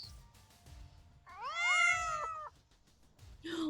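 A single drawn-out cat meow, played as a sound effect during a tabletop game session, rises and falls in pitch for about a second and stands out loud and clear over faint room noise, with no talking.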